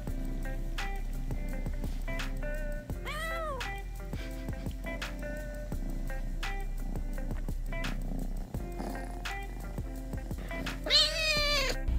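A cat meows repeatedly in short, rising-and-falling calls over a constant low electrical hum, with soft clicks and rustles between the meows; one longer, louder meow comes near the end.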